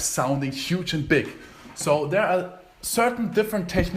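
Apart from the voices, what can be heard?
No everyday noise stands out behind the speech.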